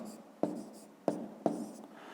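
A pen writes numbers down by hand on paper in three short, close scratching strokes, quiet and dry.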